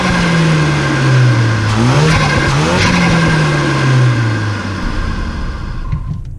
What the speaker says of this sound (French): le son que peut donner la combinaison entre la dump Forge à recirculation et le filtre à air ITG dans la boîte à air d'origine